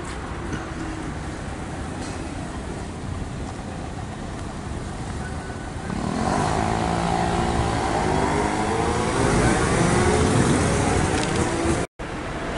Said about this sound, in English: the bus pulled up in front of it